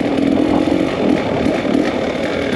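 A PW50 two-stroke dirt bike rides through sand, its small engine buzzing loud and close with a rough, wavering drone for the whole stretch.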